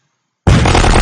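A cannon in the video game Happy Wheels fires with a sudden loud blast after silence, then a dense, roaring burst that holds to the end.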